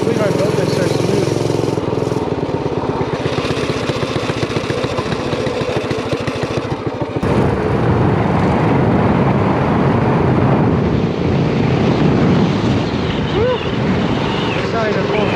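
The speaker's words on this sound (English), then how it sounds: "We can do a burnout." Homemade rat rod mini bike engine revving hard at half throttle during a burnout, a loud continuous roar with a shift in tone midway, heavy wind noise and people talking over it.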